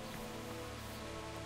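Steady rain pours down in the medieval world of Kingdom Come: Deliverance, a constant soft hiss heard faint and even, with no speech.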